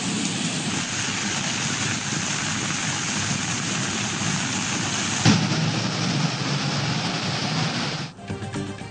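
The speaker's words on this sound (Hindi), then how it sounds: "रावलपिंडी में मूसलाधार बारिश के बाइस रेन इमरजेंसी नाफिज।" Heavy, steady downpour in Rawalpindi, a dense continuous hiss of rain falling on surfaces, loud and unbroken with a faint low rumble beneath and no voices.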